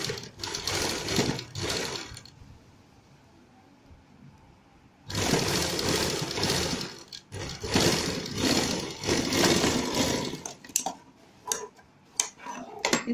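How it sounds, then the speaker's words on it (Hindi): A sewing machine stitches fabric in rapid, steady mechanical runs, stopping for a quiet pause of about three seconds before starting again, then breaking into shorter bursts near the end. "इसे हम बराबर कपड़ा रख के ऊपर एक सिलाई लगाएंगे।"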